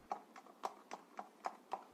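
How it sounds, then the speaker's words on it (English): Horse hooves clip-clop in a steady, even rhythm, seven distinct hits spaced evenly over two seconds, with no voices. "It was the witching hour as Chickabod rode his horse home."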